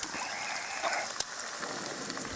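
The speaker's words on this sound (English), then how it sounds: "Still raining a little bit, not too bad" Light rain falls steadily outdoors at a bushcraft gathering, a soft continuous patter with no voices.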